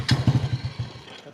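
A motorcycle engine putters with rapid, uneven low thumps close by that fade a little toward the end. The bike is parked at a home where a cooking session is under way, and no voices are heard over the engine.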